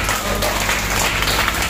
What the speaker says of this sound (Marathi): साहेबांचं जोरदार टाळ्या वाजवून आपण स्वागत करू